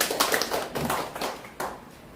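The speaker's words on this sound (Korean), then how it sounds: "박수로 환영해 주시면 감사하겠습니다" An indoor audience at a disability day talk show claps in welcome, producing moderate, steady applause from a modest crowd.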